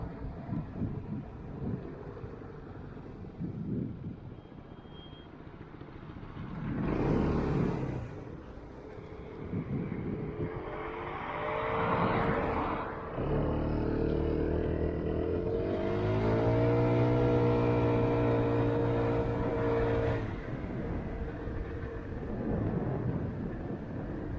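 A 2020 Royal Alloy GP 200 LC ABS scooter is ridden and accelerates, its engine hum rising and falling in pitch under heavy wind buffeting on the microphone, with a clear climbing rev in the middle.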